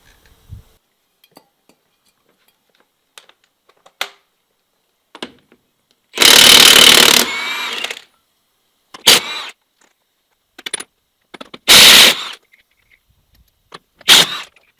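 Impact wrench with a 1.25-inch socket on rusty, dirty lug nuts with flat washers and shouldered nuts, at a flat tire: three loud bursts of about two seconds, one second and under a second, separated by scattered clinks and handling noises.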